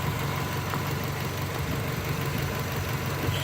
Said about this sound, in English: as you can hear, the engine runs nice and smooth